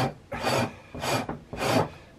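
A scraper drags across frost on a Beaver in three close, rasping strokes, each a short, gritty scrape of about half a second with brief pauses between.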